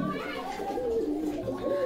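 Soft pigeon cooing mixed into a busy outdoor scene at a pigeon market in Bogura, with people chatting and children's voices nearby.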